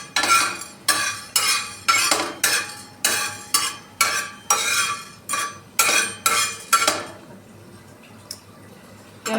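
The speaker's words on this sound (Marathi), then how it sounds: "आपण लवंग आणि काळी मिरी भाजून घेऊया याला पण थोडं थोडं भाजायचं" Cloves and black pepper dry roasting in a pan, stirred in a regular rhythm of about a dozen loud, close scraping sweeps, then a quieter pause with a single faint tap.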